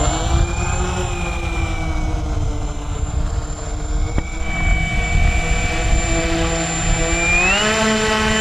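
An LX Models B-25 radio-controlled model bomber with a 79-inch wingspan taxis out, its twin electric motors giving a loud, steady whine that dips and then rises sharply in pitch near the end, with no talking.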